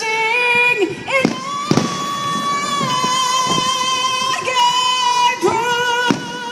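Fireworks burst in a rhythmic series at NewSpring Greenville, SC, with loud sharp cracks spaced a second or so apart over a steady tonal backing of music.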